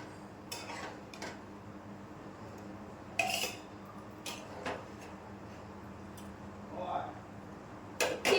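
Metal cooking pots and utensils being taken out in a home kitchen, a series of scattered clinks, clanks and scrapes at irregular intervals, some close and sharp, while a person talks quietly.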